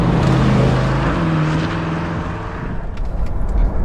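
A 2022 Chevrolet Corvette Stingray on the move, its engine rumbling loud and close with a low steady drone that eases and then picks up again.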